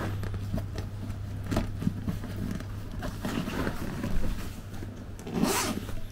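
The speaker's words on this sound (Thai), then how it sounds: "ซิปก็อย่างดีนะเป็นแบบว่าซิปกันน้ำอ่ะโคตรเลิศเปิดเข้ามาปุ๊บ" A waterproof zipper on a large bag being pulled open, a close series of rasping zip strokes with brief pauses, fairly loud over a faint steady background hum.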